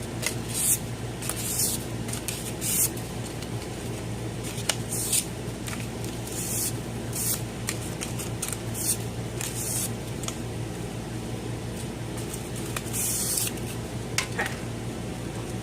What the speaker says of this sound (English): I'm going to clean my wire really quick. Just using some sandpaper.